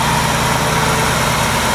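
A Ford Crown Victoria fitted with a Cobra engine, being tested with its intake manifold runner controls not working, idles steadily with a loud, close, even hum and no talking.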